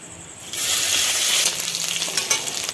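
Panch phoron, a dried red chilli, a bay leaf and chopped ginger hit hot mustard oil and erupt into a loud, close, steady sizzle that fades slightly, with a few spits and crackles.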